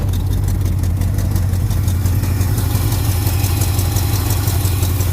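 A car engine idles steadily after its first cold start of the season, its choke not needed, giving a continuous low rumble that stays loud and close throughout with no talking.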